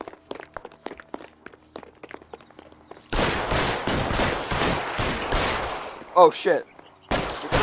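Gunfire in the video game L.A. Noire: a burst of loud, dense shots and fusillade-like bangs following quieter footsteps, with a voice reacting over the shooting.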